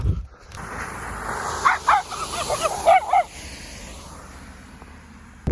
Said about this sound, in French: la mienne, elle jappe pour rien